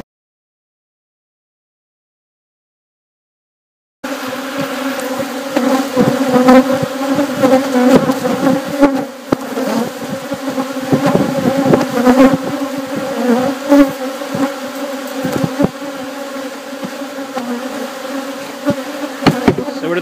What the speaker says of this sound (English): Bees have gotten a little more riled up.